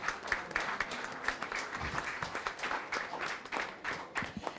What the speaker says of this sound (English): Big applause, everyone.